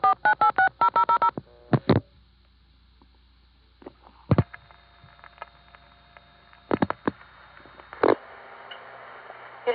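Telephone multifrequency tones from a 1975-76 phone phreaking session on the Warwick, New York exchange: bursts of short rapid beeps, then scattered longer single tones over a faint line hum, all fairly close and clear.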